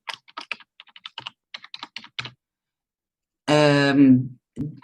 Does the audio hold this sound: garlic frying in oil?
no